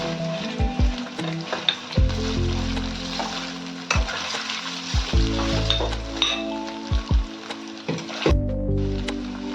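Paneer cubes fry in hot oil, giving a steady close sizzle with sharp thuds and clinks of a utensil against the pan every second or two, and no voices.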